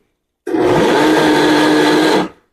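A mixer grinder grinding carrots on pulse mode whirs loudly in one steady burst of about two seconds, starting abruptly and cutting off, with no voices.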